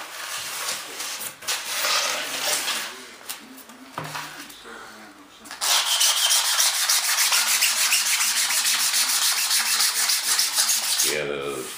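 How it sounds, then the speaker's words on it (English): A tool scrapes days-old cured fiberglass resin on an RC airplane, giving a raspy, continuous rubbing that pauses briefly and then grows louder and steadier. "Let's scrape some of this stuff that's a couple days old."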